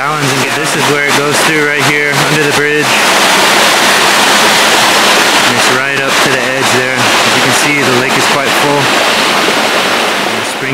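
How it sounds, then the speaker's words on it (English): Fast-flowing runoff water rushing under a bridge, a loud steady roar that continues for the whole span, with people talking over it in stretches. "Look how fast that water is running. It's flowing like mad."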